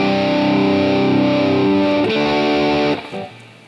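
An electric guitar run through the AmpliTube effects app on a phone rings out loud with sustained, heavily distorted chords that switch partway through, then cut off abruptly into a brief quieter decay.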